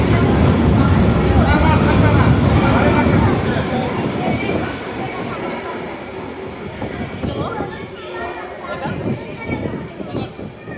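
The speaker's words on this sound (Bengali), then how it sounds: "ট্রেন তো আমাকে না নিয়ে চলে গেল" A train pulling away along a railway line, a loud rumbling roll that fades gradually as it moves off, with people chattering nearby.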